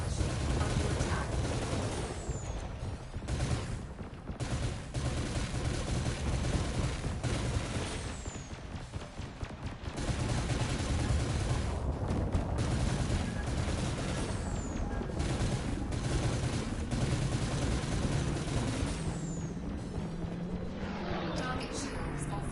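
Space combat in Elite Dangerous with sustained weapons fire, a steady loud barrage of rapid shots and rumbling impacts that dips briefly near the middle, with faint radio-style voice chatter underneath.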